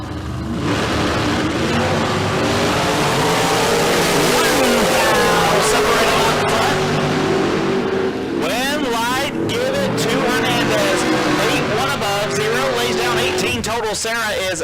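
A Mustang and a dragster at a bracket drag race launch, engines revving and roaring together, then surging again after a brief dip, with an announcer speaking over the loud, sustained engine noise.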